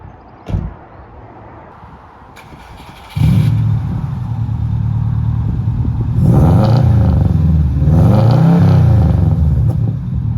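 A Subaru Impreza WRX STI engine cranks and catches after a quiet moment, settles into a loud, throaty idle, then revs hard twice close by.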